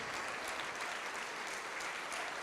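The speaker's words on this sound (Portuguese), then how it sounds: "Vamos aplaudir mais ao nome de Jesus." A church congregation applauds in praise of the name of Jesus, a dense, steady wash of many hands clapping together, fairly close and sustained throughout with no voices rising above it.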